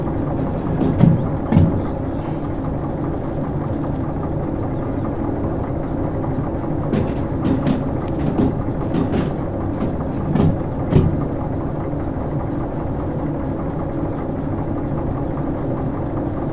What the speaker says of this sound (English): I need to get my train turned around on the turntable